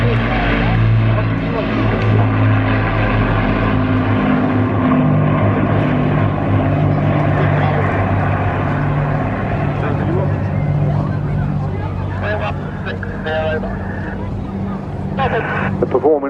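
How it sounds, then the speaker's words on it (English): Hurricane fighters flying over the Eastbourne airshow, a loud continuous piston-engine drone with a steady hum that thins out over time, while a commentator talks over it. "Flying in now from the right to be overflown by the Hurricanes as they go through their traditional victory roll"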